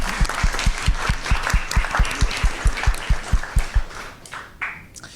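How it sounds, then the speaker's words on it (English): Rhythmic unison clapping from an audience at a school board meeting, a dozen or so evenly spaced claps over a light crowd bed, trailing off at the end. "give them a round of applause."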